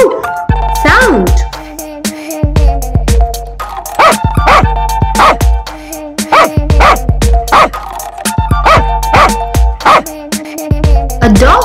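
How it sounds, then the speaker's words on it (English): A dog barks repeatedly in short bursts, loud and close, with whiny yelps mixed between the woofs. "A dog makes a woof sound."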